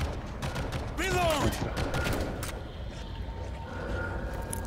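Bursts of gunfire crackle through the World War Z PC game soundtrack, with a rising tonal sweep over steady low rumble and brief sharp shots.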